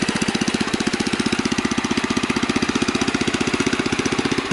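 A Husky riding mower engine runs with its belts and PTO engaged, a close, loud, rapid and even chugging pulse that holds steady throughout with no voices.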